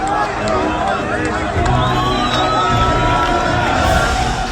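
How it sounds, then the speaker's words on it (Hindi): A large outdoor crowd in the West Bank cheers and shouts, welcoming released Palestinian prisoners, a loud dense roar of voices, whoops and yelling with overlapping chatter throughout. "हजारों की भीड़ उनका इस्तकबाल कर रही है"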